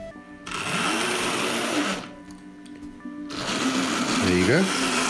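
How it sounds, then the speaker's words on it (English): A Tri-ang Hornby EM2 electric model locomotive runs on a temporary power supply, its motor giving a growly, whirring hum that rises and falls, pauses briefly, then returns with a pitch sweep near the end, fairly quiet and close. "She's got a very growly sound, this locomotive."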